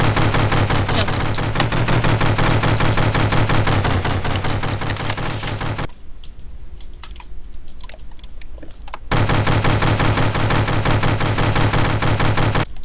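Minigun firing in the video game From the Depths, a dense, continuous rapid-fire burst for several seconds, breaking off into a quiet lull before resuming just as loud and sustained, no voices.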